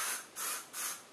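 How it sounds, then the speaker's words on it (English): Three long, loud aerosol sprays of Big Sexy Hair waterproof hair spray hiss in close succession, each a continuous burst of mist released near the listener. "This is the Big and Sexy Waterproof. And you just spray this on."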